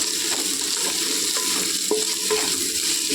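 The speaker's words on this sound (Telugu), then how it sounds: "రెండు గుప్పుళ్ళు కొత్తిమీర అండి నూనెలో వేసుకోవాలండి కొద్దిగా" Handfuls of mint and coriander leaves fry in hot oil for a biryani, giving a steady close sizzle with scattered stirring scrapes and crackles, and no voices.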